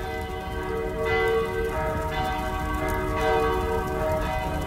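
Church bells ring steadily, overlapping metallic tones sounding in a slow repeated rhythm with a low rumble underneath, moderately distant.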